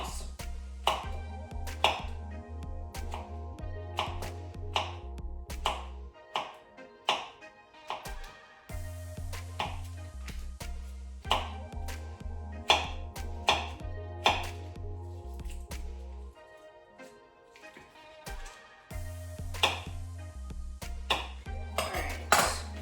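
A knife slicing a stick of butter into small pats on a board while a homemade birthday cake is being made, with sharp regular taps of the blade in quick bursts. A low steady hum runs underneath.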